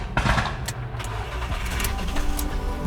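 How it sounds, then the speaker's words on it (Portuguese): A car engine cranks and catches, then settles into a steady idle, close and fairly loud. "Ligar o carro em 3, 2,"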